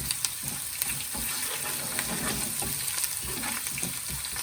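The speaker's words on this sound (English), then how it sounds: "the garlic is getting very nice golden brown color" Garlic frying in hot oil for a home-style lamb biryani, a steady dense sizzle with crackling pops throughout, close and fairly loud, with no talking.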